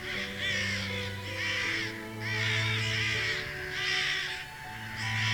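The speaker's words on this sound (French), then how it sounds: "Les corneilles se mettent après et le prennent en chasse." Crows chasing a kestrel, cawing in repeated harsh bursts that come and go in a loose rhythm, loud and fairly close over a steady low background drone.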